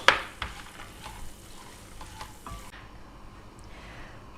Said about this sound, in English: The seeds are spluttering.